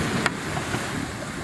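Small boat passing offshore at a beach on Fortune Island, a steady broadband wash of engine and water with surf and wind, moderately loud and continuous with no talk.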